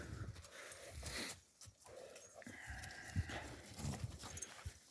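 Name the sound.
horses moving, hooves clip-clopping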